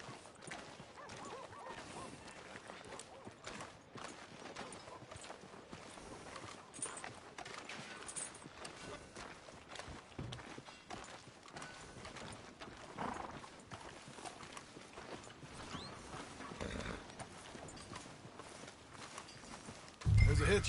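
Horse hooves clip-clop at a steady walking rhythm in Red Dead Redemption 2, moderately loud and continuous beneath game ambience and frequent speech throughout.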